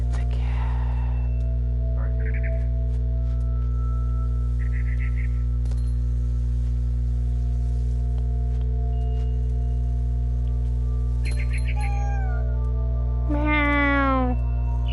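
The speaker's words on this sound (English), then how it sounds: "It's a cat." A cat meows in the video game What Remains of Edith Finch; a long rising-falling meow near the end stands out over a steady electrical hum, with a few short faint chirps and squeaks earlier in the stretch.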